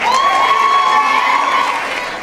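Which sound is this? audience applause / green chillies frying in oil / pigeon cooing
audience applause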